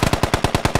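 Rapid automatic gunfire rattles in an Insurgency-style tactical shooter game, with about eight sharp, evenly spaced shots in a quick, loud burst and no voices.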